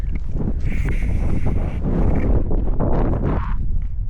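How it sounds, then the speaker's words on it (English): Gusty wind buffets the microphone in loud, rough bursts, a constant rushing roar with no voices, on a hiking trail at Lake Moultrie, South Carolina. "It's getting windy."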